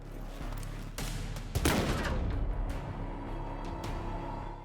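Gunfire in a video game card battle: a burst of loud, sharp shots with a heavy impact around the middle, ringing off over a low synthesized background hum, with no voices.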